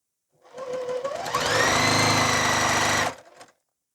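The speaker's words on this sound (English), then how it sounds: "we're going to go ahead and start sewing these through" A sewing machine stitches Hunter Star quilt blocks in one close, continuous run, its whine climbing in pitch as it speeds up, then stopping abruptly.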